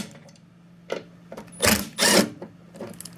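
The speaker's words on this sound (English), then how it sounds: "So using a 1/2-inch socket on my Milwaukee Impact," A Milwaukee impact driver fitted with a 1/2-inch socket loosens the nuts on a snowblower skid shoe. Several short, close rattling bursts of impacting come in quick succession, with the last two loudest, and no talking.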